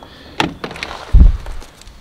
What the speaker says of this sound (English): So let's open up these French doors, get inside, and turn the lights on.